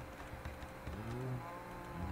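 A Minecraft cow moos once, a drawn-out low bovine call near the middle, clear and close over a quiet ambient background with no speech.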